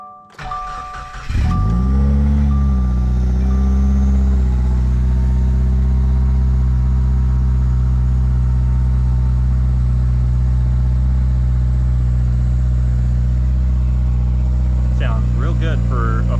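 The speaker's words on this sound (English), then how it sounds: "I will do a startup on this thing so you guys can hear the motor" A Subaru FA20 boxer engine with a forged bottom end cold starts with a brief crank and catch, then settles into a steady, fairly quiet idle that drones on close by for the rest of the clip.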